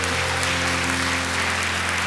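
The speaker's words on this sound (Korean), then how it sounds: "살아계신 하나님 앞에 큰 박수로 영광을" Congregation applauding in a church worship service, a steady continuous wash of clapping over sustained organ or keyboard tones throughout.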